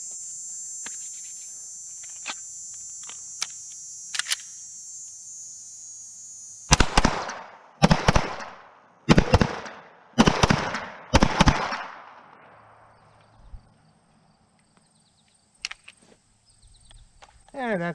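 CZ P-10 C pistol fired in quick pairs, five sharp loud cracks grouped in double taps over several seconds, close up, with a quiet pause afterward.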